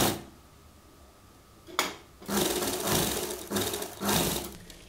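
A sewing machine runs in short bursts while stitching a strip of fabric for a child's dhoti salwar, the motor hum starting and stopping several times at close range with brief pauses between runs.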